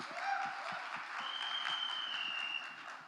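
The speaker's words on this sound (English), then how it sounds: "really a huge round of applause for Monica Shergill, please." Audience applause at a film trailer launch event, a sustained wash of many hands clapping, steady and fairly distant, with a faint tone and crowd murmur above it.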